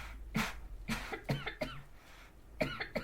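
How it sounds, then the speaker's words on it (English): A person coughs several times in quick, close bursts, each short and harsh, spread across a few seconds against a quiet background with no talking. "I will be coughing a little bit during the voiceover as well."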